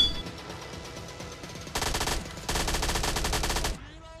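Bursts of automatic gunfire from an MP5K in PUBG Mobile Lite, with a quiet stretch of faint shots first, then two loud rapid-fire volleys close by, ending abruptly.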